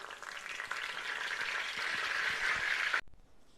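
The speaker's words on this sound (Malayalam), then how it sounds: "കുറച്ച് കറിവേപ്പില നമ്മൾ എണ്ണയിലൊന്ന് മൂപ്പിച്ച് കോരുകയാണ്" Curry leaves crackle and sizzle steadily in hot oil in a pan while Kerala-style jackfruit chips are being prepared, a continuous close frying hiss that cuts off abruptly near the end.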